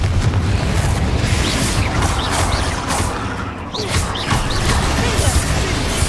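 Fiery spell blasts from Confringo and Bombarda in the Hogwarts Legacy video game burst out in a steady run of loud booms and crashes, with a voice talking underneath the dense din.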